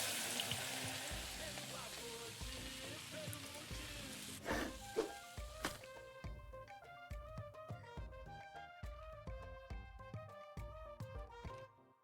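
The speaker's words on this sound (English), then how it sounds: "we're just frying the whole guy whole. This is a very intense way to cook fish." Whole fish frying in a pan in the cooking game Venba, a steady crackling sizzle that thins into scattered pops and spits while soft musical tones play over it.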